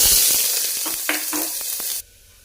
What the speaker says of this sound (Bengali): এবার আমি হিং জিরাটা দিয়ে নিচ্ছি এবার দিয়ে দিব পেঁয়াজ